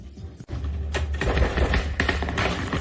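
War film gunfire played back through a JBL Bar 1300MK2 soundbar, dense rapid bursts of shots with heavy low thumps, loud and close, with shouting voices mixed in.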